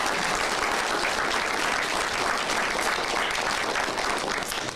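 A crowd claps together in a steady, fairly even round of applause at a Packers Fan Hall of Fame ceremony, with no voices on top.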